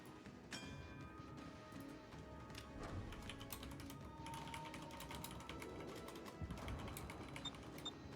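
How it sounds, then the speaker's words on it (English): Rapid, continuous clicking of keys on a computer keyboard, typed close by during an online match, a quiet steady patter of short taps with no talk. "Just typing out the chat."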